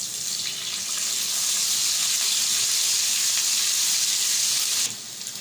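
Crushed ginger-garlic paste sizzles in light-brown frying onions for aloo palak, a steady, loud hiss that drops suddenly in volume near the end, with no voices.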